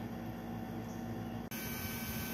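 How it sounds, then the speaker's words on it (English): An air conditioner and a water transfer pump run together as a steady, continuous hum with broadband whooshing noise, unchanging except for a brief dropout midway. "maybe you can hear me over the air conditioner and the transfer pump"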